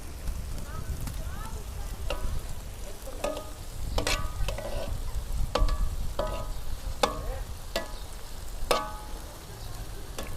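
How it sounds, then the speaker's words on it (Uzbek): Food fries in oil in a pot over a wood fire, a steady crackling sizzle broken by regular sharp scrapes and knocks of stirring, with talk in the background. "yarmi bilan qovurib suv qo'yasiz."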